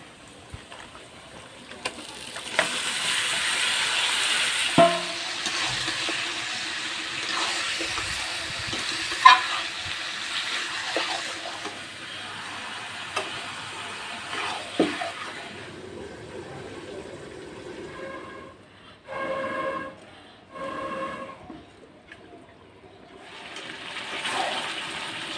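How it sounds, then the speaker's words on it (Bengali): Meat dropped into a pan of hot spiced oil for a Bengali festive curry, giving a steady, hissing sizzle up close that swells and fades over about twenty-five seconds, with occasional clanks and stirring scrapes but no talk. "মশলাটার তেলটা ছেড়ে দিয়েছে, এখন আমি মাংসটা দিয়ে দেব"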